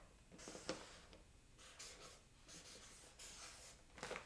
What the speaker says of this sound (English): Then I grab my marker. And what I'll do is I like to draw.